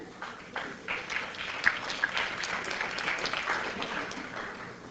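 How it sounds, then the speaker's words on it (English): Audience clapping in a university lecture hall during a talk on 9/11, a moderate, steady patter of many hands with a couple of sharper claps, continuing evenly without speech. "people clap, so let me shut down the clapping perhaps"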